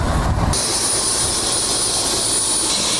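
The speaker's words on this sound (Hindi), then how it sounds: "ये आ गया भाई अपना हेलीकॉप्टर" A loud, steady turbine whine and rushing roar of a helicopter engine fill the air, close and continuous without pause.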